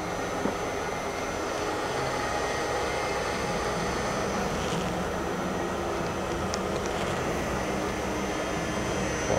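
A Drake CNC thread grinder spindle runs at 2,000 RPM, giving a steady, continuous broadband whirring hum at constant level throughout, with faint occasional ticks and no speech.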